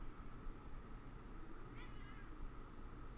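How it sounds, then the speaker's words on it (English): A faint cat meow rises briefly out of a steady, noisy background hum, distant and partly masked. "And you're gonna hear Cal meowing in the background today, hopefully."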